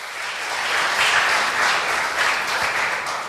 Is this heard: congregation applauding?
yes